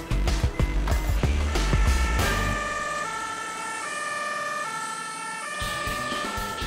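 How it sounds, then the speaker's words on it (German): An ambulance drives with its siren wailing, the tone loud and close, steady and cycling, over road and motor noise that is heavier at the start. "Ein Rettungswagen muss so schnell wie möglich am Einsatzort sein."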